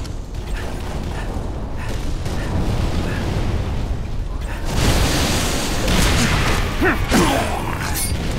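Explosions go off in a Halo custom game, a dense rumbling roar of blasts and mechanical clatter with a louder burst about halfway through and sharp pops near the end, while players chatter faintly.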